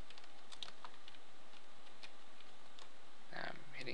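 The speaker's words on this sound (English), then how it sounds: "Now I'm hitting Control up, Control down, Control right, Control left" Computer keyboard keys are pressed in Control-plus-arrow combinations while working in an Excel spreadsheet, giving a run of quiet, irregular clicks and taps over faint room noise, ending with a brief louder burst near the close.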